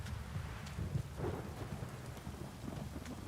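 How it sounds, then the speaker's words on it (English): Heavy downpour in The Witcher 3, dense rain hissing steadily while low rolling thunder rumbles underneath, with no voices. "This downpour's a bastard, it is."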